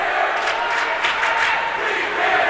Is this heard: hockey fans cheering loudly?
yes